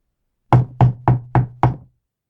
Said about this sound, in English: A knocking on the door interrupted further interchanges on the peculiarities of royalty.